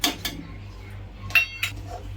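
Tilgul ladoo filling of sesame seeds and cardamom powder stirred in a pan, a few sharp metallic clinks of a spoon against the pan over a quiet background, no voices.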